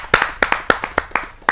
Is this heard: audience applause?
yes